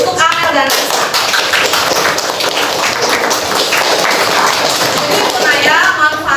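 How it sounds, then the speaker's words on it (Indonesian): Classroom applause for two students, Amel and Lisa, a dense patter of many hands clapping steadily for several seconds at fairly close range with no pauses. "kita berikan tepuk tangan dulu untuk Amel dan Lisa"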